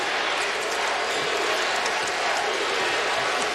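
A sellout basketball arena crowd roars and cheers steadily throughout, a dense, loud wall of crowd noise with no pauses, during a tight Kentucky at South Carolina college game.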